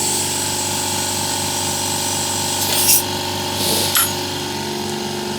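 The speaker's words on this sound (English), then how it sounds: "Let me just wait for the compressor to stop running" An air compressor supplying a DIY siphon-nozzle waste oil burner runs steadily and loudly with an even motor drone, and two short bursts of air hiss break through near the end.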